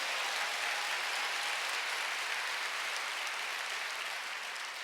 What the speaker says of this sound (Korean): 그렇다고 진짜 믿는 사람만 박수 세게 쳐보세요.